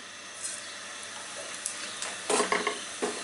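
Whole cumin seeds sizzle in hot oil in a pan, a soft, steady hiss with a few louder crackling bursts toward the end.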